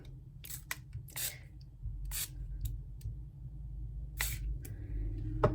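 A few short, sharp bursts of yellow colored mist spray hiss onto paper in quick succession against a quiet background, with faint rubbing and handling sounds between them.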